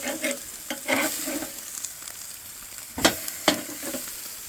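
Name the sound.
steaks sizzling on grill as they are flipped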